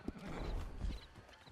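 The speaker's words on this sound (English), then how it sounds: "Get on the horse when you're ready." Horse hooves clip-clop alongside a whinny in the Red Dead Online video game, a close, busy burst of hoofbeats with a brief neigh over ambient game sound.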